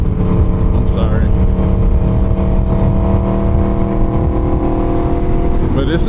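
Steady traffic roar on a busy highway near Los Alamos, New Mexico, with a continuous broadband rush of passing cars and brief higher whooshes near the start and end, heard from a moving vehicle.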